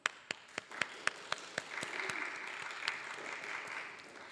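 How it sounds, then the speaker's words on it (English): An audience at a talk on Methodist history in Chicago welcomes the speakers: a few sharp, separate claps come first, then they merge into a steady, moderate round of applause that slowly fades. "please join me in welcoming both of our distinguished speakers with a round of applause"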